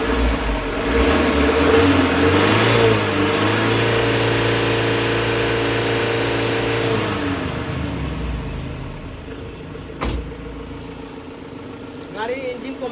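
A 2022 Mahindra Bolero Pickup FB with a 1.7-litre engine revs loudly and holds high before settling back to a lower idle, with a sharp click partway through the quieter stretch.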